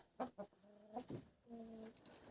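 A few short hen clucks and soft, drawn-out coos from chickens nearby settling down for the night, in brief bursts with small pauses between them.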